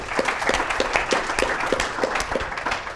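Applause from an in-person audience at a technology event, steady clapping spread across the room at moderate level, with a faint voice underneath.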